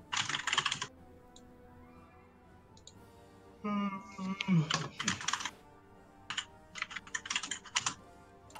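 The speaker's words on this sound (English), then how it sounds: "Loud typing." Loud clicky computer keyboard typing during a Hearts of Iron IV session, with bursts of rapid keystrokes separated by pauses and mixed with voices talking.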